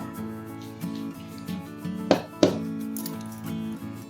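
Two sharp metallic clunks close together as a heavy iron wok is lifted and set down, over a low steady hum.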